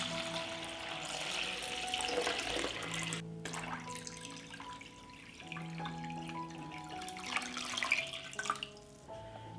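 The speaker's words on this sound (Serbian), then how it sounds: "Sipat ću vodu do visine poklopca." Water pouring from a tap into a pot holding jars set on a cloth, a steady rushing stream that runs continuously and fairly close, with faint splashes and no voices.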